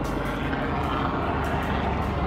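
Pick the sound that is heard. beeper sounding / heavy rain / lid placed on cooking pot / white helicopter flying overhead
white helicopter flying overhead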